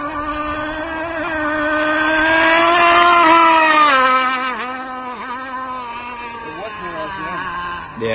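Gas-powered Rico rigger RC boat engine running, a loud high-pitched buzzing whine that rises and holds, then wavers and bogs with dips in pitch before picking up again at the end, with people talking over it.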